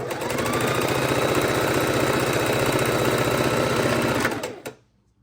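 A sewing machine stitching quilt blocks runs steadily in a fast, even rhythm for several seconds, close and loud, then stops abruptly.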